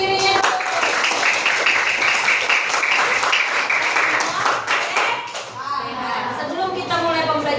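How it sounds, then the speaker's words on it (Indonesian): A class of schoolchildren claps together in a dense, sustained burst of applause lasting several seconds, then fades as a teacher's voice and children's chatter take over. "tepuk tangan untuk diri sendirinya."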